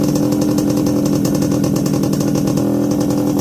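A restored Yamaha RX100 two-stroke motorcycle engine runs at a steady, buzzy idle, loud and close, with a rapid even putter and no pauses.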